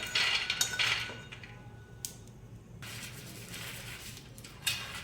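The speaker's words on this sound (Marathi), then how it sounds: "आता आपण गॅस बंद करून एका प्लेटमध्ये शेंगदाणे काढून घेऊया।" Roasted peanuts tipped from a pan onto a plate for flaxseed and peanut chutney, giving light clinks and rattles near the start, a short clatter mid-way, and a faint scrape near the end over low kitchen hum.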